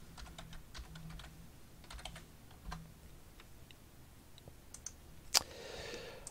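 Typing on a computer keyboard while creating a JavaScript file: scattered close key clicks and short taps spread across the clip, ending with a sharper click and a soft rustle.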